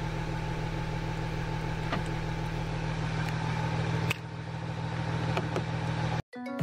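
A high-mileage Audi car engine idling steadily with a constant low hum and a few faint clicks, ending in a brief cut near the close.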